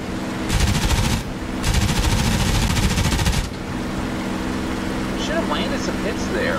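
Fighter planes trade machine gun fire in a flight combat game escorting P-38s, two loud sustained bursts of rapid gunfire over a constant engine drone, then the engine alone.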